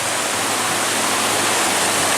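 Steady, dense rush of splashing water at a theme park ride splash zone, with no gaps and no voices.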